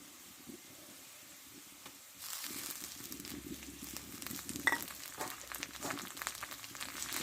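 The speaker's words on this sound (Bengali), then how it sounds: "এটা ভালো করে একটু ভেজে নেবো দেখো আদা জিরে" Ginger, garlic and cumin paste frying with onions in a pan for an egg and potato curry, a soft steady sizzle that swells louder partway through with faint stirring scrapes, no talk.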